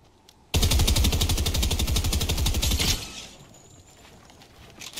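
Rapid automatic gunfire in the battle royale game Fortnite, a loud continuous burst of closely spaced shots lasting about two and a half seconds, then fading into quieter ambient game sound.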